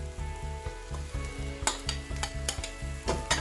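Celery going into a sizzling pot of chicken lentil soup and being stirred, with steady frying hiss and rhythmic scraping strokes of a utensil, close and clear with no talk.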